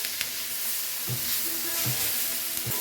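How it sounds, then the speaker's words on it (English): Peppers sizzle steadily as they fry in a pan for chilli con carne, a continuous close crackle with a few short scraping stirs. "The peppers are going to become like really soft and kind of sad if you over fry them"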